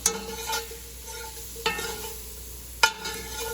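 Flour being stirred into onions, carrots, mushrooms and celery in a pot for beef stew: a soft, steady sizzle with a few sharp spoon knocks against the pot at intervals, close by, no talk.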